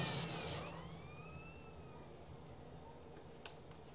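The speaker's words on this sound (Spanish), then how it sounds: "Oh, puta ambulancia." Ambulance siren in the video game GTA San Andreas, a wailing tone that sweeps up and down over steady engine and traffic rumble, fading slightly after a louder start.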